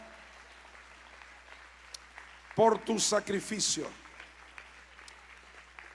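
A church congregation applauding during a Spanish-language worship service, a short burst of clapping that rises briefly and fades, heard under a preacher's voice.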